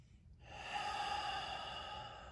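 A single long, close breath drawn in and released during a yoga neck stretch, soft and airy, with no talk.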